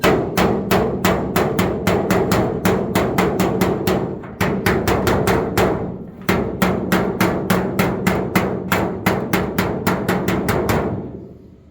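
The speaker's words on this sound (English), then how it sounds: "I'm going to apply pressure to this area as I'm hitting, and that'll help move the metal where it needs to go" A hammer strikes the metal body panel of a 1959 GMC in a fast, sharp series of close metallic blows, in bursts separated by brief pauses, with no talking.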